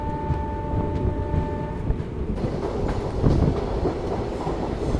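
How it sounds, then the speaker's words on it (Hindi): Corbett Park Link Express train rolling between Jodhpur and Jaisalmer, heard as a loud, steady rumble of wheels on track with clattering, and a brief tonal horn-like hum early on. "यहाँ से जो है ट्रेन अब निकल चुकी है।"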